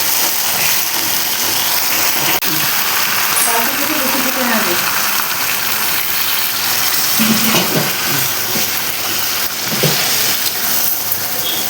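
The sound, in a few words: hot water poured into pan of chicken and moong dal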